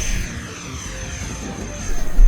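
FMS Su-27 Flanker twin 70mm RC jet flying past at high speed in strong wind, a rushing ducted-fan whine with a falling pitch sweep as it passes, and wind buffeting growing louder at the end.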